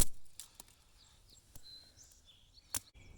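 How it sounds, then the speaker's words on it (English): Scattered bird calls and chirps in quiet woodland, faint and spread out, with a few sharper clicks or snaps in between. "listening to the birds"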